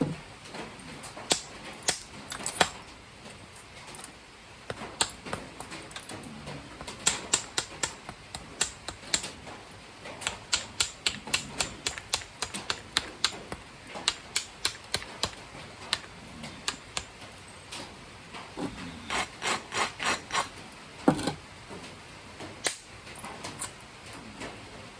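Flintknapping on a stone piece being thinned: a long run of sharp, faint clicks and ticks, in irregular bursts with short pauses, close and otherwise quiet.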